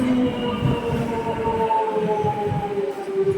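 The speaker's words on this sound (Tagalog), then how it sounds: "Train is coming, everyone." A train pulling into a station in the UK, loud and close, with a rumbling roll beneath sustained whining, squealing tones that slowly shift in pitch as it slows.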